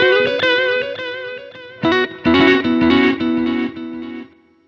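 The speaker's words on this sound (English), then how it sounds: "This is a delay, normal digital." Electric guitar played through a Zoom MS-100BT multi-effect pedal with its normal digital delay ahead of a spring reverb, a run of plucked notes and chords with clear repeats trailing each one, then fading out alone.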